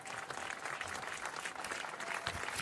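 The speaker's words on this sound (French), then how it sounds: "Sous les applaudissements de la foule." A crowd applauds the unveiling of a statue on the Esplanade Johnny Hallyday at Bercy. The clapping is dense and steady throughout, broad and fairly distant.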